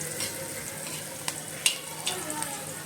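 Green chilies cooking gently in oil over low heat for a Gujarati carrot-fenugreek pickle, giving a soft steady sizzle with a few faint scrapes and clicks, heard alone.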